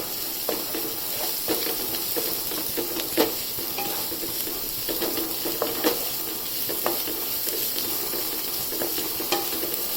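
Red spinach stirred and fried in a pan for corn pulao, a soft steady sizzle broken by repeated scrapes and clicks of a spoon against the pan, fairly quiet and without talk.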